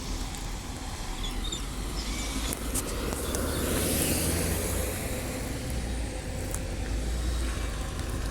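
A Transperth route 272 bus arrives and loops around a car park, its engine a steady, fairly loud rumble and road noise with no speech throughout.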